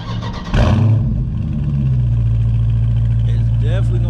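Starter whirr and a sudden firing of a 2021 Dodge Charger 392 Scat Pack Widebody's V8, catching with a loud bark then settling into a deep, rumbling idle close by, with voices talking over it.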